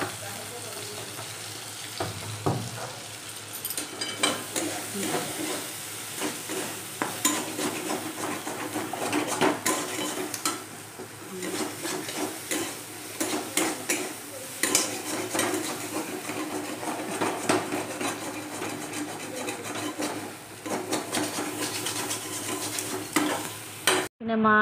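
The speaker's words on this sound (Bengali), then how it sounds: "এই তেল ছড়িয়ে নাড়াচাড়া করে নামিয়ে নিলেই রেডি হয়ে যাবে তোমাদের নিম ছেচকি" Neem chechki fries in plenty of oil in a pan, with a steady close sizzle and frequent scraping and clinking of a spatula being stirred through it the whole time.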